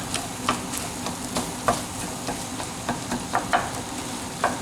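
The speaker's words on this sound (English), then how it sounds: "And mix it well." Rice is stirred into a seafood paella pan over a low background sizzle, with repeated scraping taps of a utensil against the metal at an uneven rhythm, close up and with no talking.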